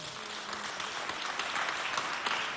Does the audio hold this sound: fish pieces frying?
no